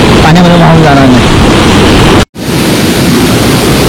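A waterfall and fast river water at a water crossing roar loudly and steadily under heavy wind buffeting on the microphone, with a voice heard briefly early on and a short dropout midway.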